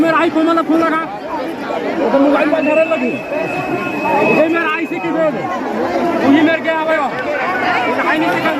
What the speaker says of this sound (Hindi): अच्छा भीड़ है